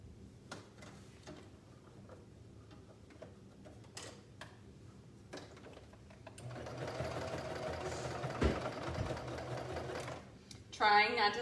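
Sewing machine top stitching down the side of a shorts pocket: a quiet stretch of handling and a voice talking, then a steady rapid mechanical whirr with ticking stitches near the end.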